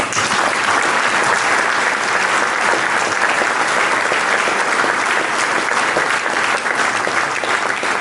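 Loud, dense applause from a large audience at a televised Moroccan event, steady and sustained throughout without pause.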